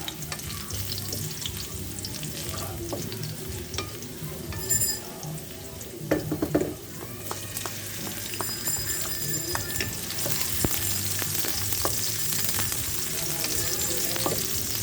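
Fried tofu being sautéed in a pan for tofu sisig, a steady close sizzle with occasional scraping and stirring clatter, continuing throughout with no talk.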